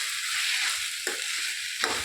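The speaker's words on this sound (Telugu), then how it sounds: "ఇలా ఒకసారి కలుపుకొని ఒక 5 మినిట్స్ వేగనిద్దామండి" Flat beans fried with pounded raw green chili sizzle steadily and loudly in a pan, with two quick scraping stirs cutting through the hiss.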